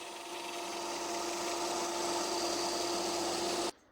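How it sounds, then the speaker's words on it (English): A power sander shapes a wooden fishing lure, a steady loud whirring grind with constant rubbing that runs unbroken for several seconds and then cuts off abruptly. "so I'm going to bring it over to the sander"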